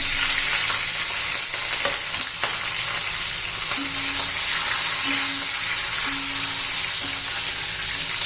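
Green chillies, washed and dried, sauté in hot oil in a pan with a steady, close, dense sizzle and crackle that runs unbroken throughout, with a few faint low hums in the background.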